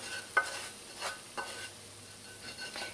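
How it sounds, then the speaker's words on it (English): Chorizo stirred in a hot frying pan, with a soft continuous sizzle and several short scraping strokes from the stirring, close and fairly quiet. "Stir in our chorizo."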